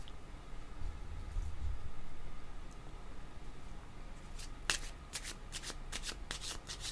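Tarot cards are shuffled close up in a quiet room, first as a soft rustle and then as a quick run of crisp riffling snaps in rapid succession.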